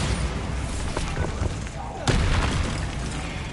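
A Bombarda explosion spell from a Harry Potter video game, heard as a sudden booming blast near the two-second mark over a noisy, rumbling game backdrop.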